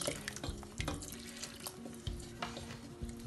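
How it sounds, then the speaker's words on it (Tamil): Tamarind water poured into a pan of fish curry with mango, a steady close splashing pour with a few clunks of the vessel, no talk. "அதுக்கப்புறம் இந்த மிக்ஸ் பண்ணி வச்சுருக்க புளி தண்ணியை"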